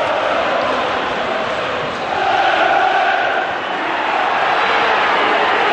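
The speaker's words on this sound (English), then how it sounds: "Milano getting the cheers from the crowd" Large football stadium crowd at a Fulham versus Manchester City Premier League match, a broad sustained roar of cheering that swells and dips slightly, loud and continuous.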